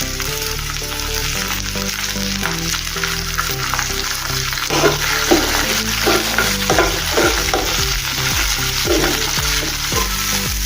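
Eggplant frying in a pan for a spiced brinjal dish, a steady broadband sizzle with repeated scraping stir strokes, and faint music-like tones running underneath throughout.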